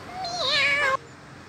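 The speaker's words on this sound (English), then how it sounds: "That is an innocent cat" One clear, close meow from a cat, rising and falling in pitch for just under a second, then quiet.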